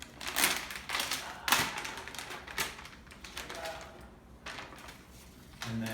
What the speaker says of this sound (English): I'll rip the package like this